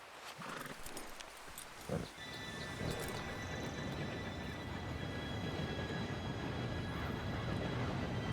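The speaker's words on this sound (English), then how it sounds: "Train should be here any minute now." Train approaching in the Red Dead Redemption 2 video game, a low rumble that builds and grows steadily louder after a few brief knocks, with a faint tonal ring on top.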